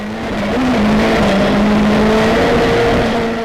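A hillclimb race car with a steering hydraulics problem drives a competitive run. Its engine drones loud and close with a steady, slowly rising pitch as it accelerates, and no voices are heard.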